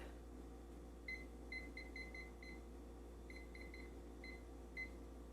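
Short electronic beeps from a kitchen timer chirp in quick groups of three or four, faint over a low steady hum, repeating a few times.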